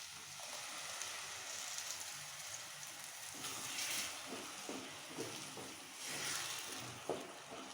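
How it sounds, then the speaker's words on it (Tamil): Puréed tomato, three medium tomatoes ground smooth, poured into a hot pan for paneer gravy, giving a steady close hiss and sizzle with soft spattering pops throughout. "தக்காளி ஊற்றி நல்லா கிளறிக்கலாமுங்க"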